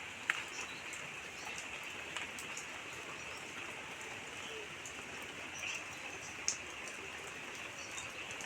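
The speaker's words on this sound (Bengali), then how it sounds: "সারাদিন রিমঝিম বৃষ্টি হয়ে চলেছে।" Steady light drizzle falling outdoors over green, tree-lined surroundings, a soft even patter with a few sharper drops and faint bird calls far off, no one talking.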